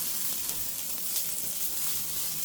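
Steak frying in a pan gives a steady, close sizzle and hiss with faint crackles and pops, alone and without talk.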